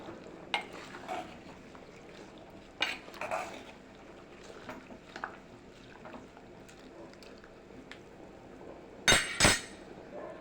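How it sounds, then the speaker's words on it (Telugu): Gongura dal being stirred in a cooking pot, soft wet scraping and intermittent metal clinks of a spoon against the pot, fairly quiet, with a sharper clatter near the end. "ఇప్పుడు వీటిని బాగా కలుపుకునేసాం"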